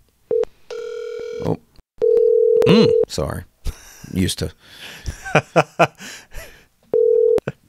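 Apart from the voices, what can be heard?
telephone call being placed, dialing and ringing tones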